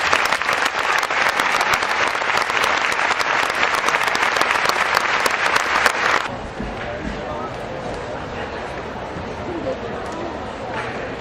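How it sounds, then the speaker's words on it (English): A commencement audience gives a burst of loud, dense clapping for the scholars that lasts about six seconds and then stops abruptly, leaving quieter room noise and a voice speaking. "How about one more round of applause for our scholars?"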